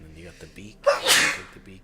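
A single sharp sneeze bursts out near the middle, loud and close, while someone talks casually before and after it during a video game session.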